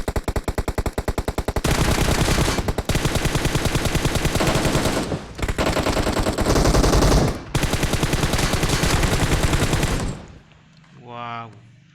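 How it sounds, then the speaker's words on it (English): Sustained bursts of automatic gunfire in the PUBG Mobile battle royale game, loud and dense rapid shots in long volleys with brief gaps, ending in quieter game sounds. "Now you can shoot, bro."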